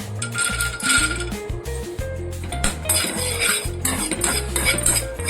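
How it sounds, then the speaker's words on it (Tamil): Cashews are dry roasted in a pan and stirred continuously, giving a busy, close rattle of nuts and a utensil scraping and clinking against the metal, with no voices. "இப்ப முந்திரி பருப்பு நம்ம போட்டு அதே மாதிரி ட்ரை ரோஸ்ட் பண்ண போறோம்."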